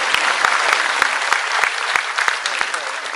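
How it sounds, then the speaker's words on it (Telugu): Audience applause at a live ventriloquist show, a dense burst of many hands clapping with sharp individual claps standing out, steady and fairly loud throughout. "ఎవరు చప్పట్లు కొట్టలేదా?"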